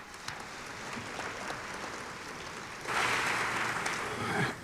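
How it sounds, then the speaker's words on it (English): A graduation audience claps for the mass media department after its video yearbook, a moderate, fairly distant wash of applause that swells louder toward the end. "let's give them a round of applause for doing an outstanding job"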